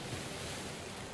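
Violent ocean waves crash in a video game scene at sea, a broad steady roar of surf and wind with no pauses, moderately faint and continuous throughout.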